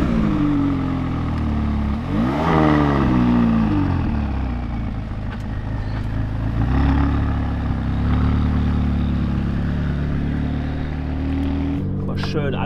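A McLaren 570S sports car engine revving hard and pulling away, a loud, close, sustained roar with rising and falling pitch sweeps, while people talk over it.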